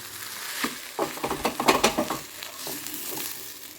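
Eggs frying in a pan with onion, green chilli, curry leaves, pepper and cumin, a soft sizzle broken by a quick run of stirring scrapes and taps in the middle, no talking.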